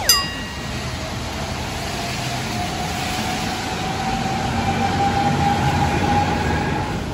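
A train at a station in Hungary rumbles steadily with a high metallic squeal running through it, growing slightly louder toward the end.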